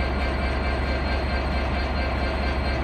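A DB Class 66 diesel freight locomotive, 66174, runs through Exeter St David's station, giving a steady, loud, continuous rumble and roar that holds level from start to finish with no voices.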